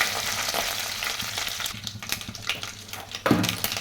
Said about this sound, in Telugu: ఆయిల్ కొంచెం హీట్ అయ్యాక పోపు దినుసులు కరివేపాకు వేసి కొద్దిసేపు వేగనివ్వాలి